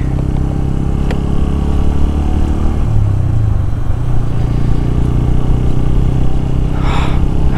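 A Bajaj N160 motorcycle cruising on a highway, its engine a steady loud drone under heavy wind rush, with a brief passing vehicle near the end.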